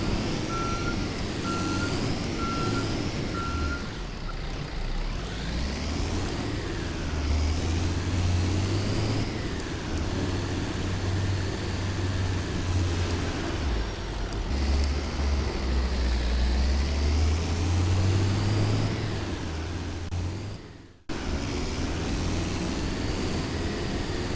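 A car driven downhill to a mountain campsite, reversing, with a steady low engine drone, intermittent reversing beeps early on, and a brief cut near the end; no talking.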